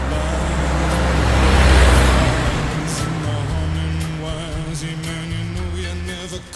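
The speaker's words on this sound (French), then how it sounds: "Ah, regardez, enfin voilà une voiture." A car approaches with a loud, swelling engine rumble, peaks close by, then settles into a lower idle as it comes to a stop.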